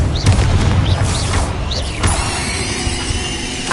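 Confringo spell blasts in the video game Hogwarts Legacy, heard as several short bursts and whooshing pops in quick succession over a rumbling, busy low end, loud and close with no speech.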